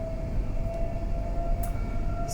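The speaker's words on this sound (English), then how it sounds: "starting on a noisy train" Steady low rumble and hum inside a moving train carriage, with a constant tonal whine and brief hissy bursts over the continuous noise.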